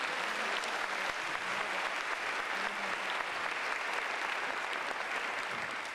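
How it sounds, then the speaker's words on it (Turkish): Sustained applause from a concert audience honoring veteran masters at a tribute concert, dense and steady clapping filling the hall for the full stretch without pause. "En büyük alkış büyük ustalara."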